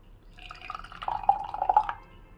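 Ghee poured into a cup of urad dal milk makes a brief, soft liquid trickle with a few light drips, close and quiet, lasting about two seconds.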